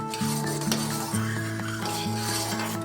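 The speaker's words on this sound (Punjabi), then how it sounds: "ਚਮਚ ਨਾਲ ਹਿਲਾਵਾਂਗੇ" A spoon stirs boiling milk in a pot, producing a steady close scraping and bubbling sound over a low tonal hum throughout.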